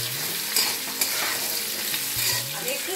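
Potatoes and pumpkin fry in sunflower oil with a dense, even sizzle and occasional stirring scrapes, close and fairly loud.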